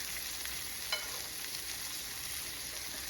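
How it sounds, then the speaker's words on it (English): A steak frying in a pan while being basted with butter gives a soft, continuous sizzle with a single faint clink near the start. "You're going to start basting your steak with"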